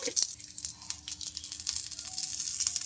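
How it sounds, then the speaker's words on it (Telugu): Peanuts and chillies frying in a pan for a cucumber dosa breakfast give a soft, steady sizzle with light crackling pops, close by and fairly quiet, with no talking. "మిర్చి వేగిన తర్వాత ఇప్పుడు ఇందులోకి పల్లీలు అయితే వేసుకోవాలి"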